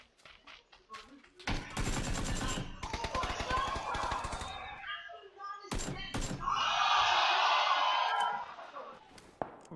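Gunfire in the shooter game PUBG: sharp rapid bursts and single loud cracks mixed with heavy thuds, broken by pauses and a sustained noisy stretch, with people talking over parts of it.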